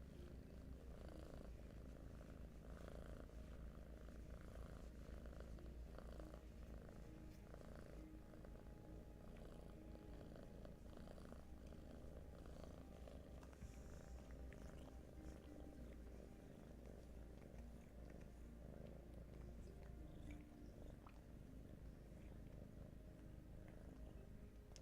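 A cat purrs in a steady, continuous rumble, close and unbroken throughout, with no voices.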